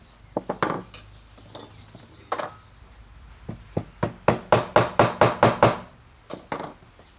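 A wooden tortilla press part is struck with a hammer, first with scattered knocks, then a quick run of about eight sharp, evenly spaced blows, close and distinct.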